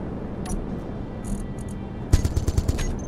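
Gatling turrets in the game Space Engineers open fire in a rapid burst of automatic shots partway through, loud over a steady background hum, after a quieter stretch with faint mechanical tones.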